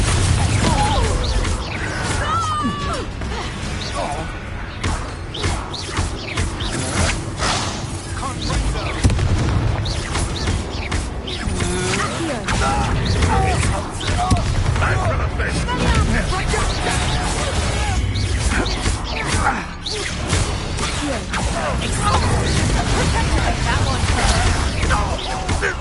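Confringo blasting-curse explosions from the Hogwarts Legacy video game boom repeatedly, dense and loud, under a continuous roar of game music and effects with no clear gaps.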